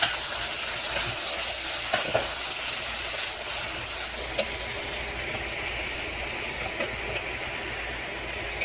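Vegetables sautéing in a pan give off a steady, broad sizzle throughout, with a few sharp clinks and scrapes from stirring scattered over it and no talking.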